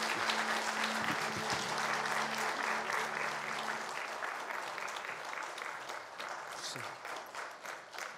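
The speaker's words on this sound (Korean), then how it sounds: "박수 부탁드리겠습니다" Congregation applauding during a Korean church worship service, sustained clapping that gradually thins toward the end, with a brief held tone from the sound system early on and no speech.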